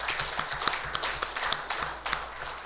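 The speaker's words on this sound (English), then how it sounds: "give them a round of applause for their participation." A modest audience at a general assembly claps for two departing participants, scattered individual hand claps forming thin, uneven applause that tapers off.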